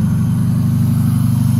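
A car engine runs on its first start after an engine swap, giving a loud, steady low throb with an even pulsing rhythm, close by and with no talk.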